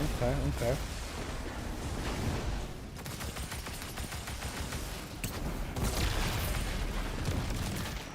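Several video game explosions boom and crackle in bursts over a continuous rumbling battle din, with voices talking underneath.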